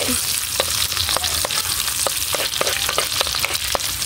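Ginger fries in a pan with pork fat and garlic, a close, steady sizzle broken by regular sharp scrapes and clicks as it is stirred, about a dozen strokes, with no talking.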